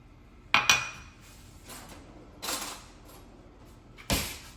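A spoon mixes butter into a crumbly pie crust mixture in a bowl, producing a few sparse scrapes and clinks with quiet gaps between them.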